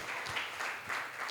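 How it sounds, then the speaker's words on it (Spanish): Church congregation clapping in praise during a sermon, a short, fairly faint patter of many hands with a few louder pulses, no talking heard. "Dale fuertes palmas de alabanza a Dios."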